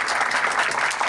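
An audience claps steadily at an Urdu literary tribute gathering, a brief, dense burst of applause heard alone.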